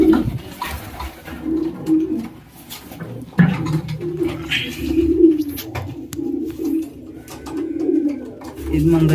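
Pet breeder pigeons coo close by in repeated soft, throaty calls that rise and fall in waves, with a few faint chirps and some background voices.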